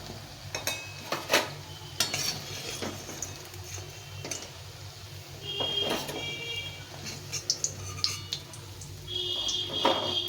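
A utensil scrapes and clinks against a pan as fried ridge gourd and potato fritters are lifted out, with scattered taps and scrapes over faint kitchen hum and an occasional high beep.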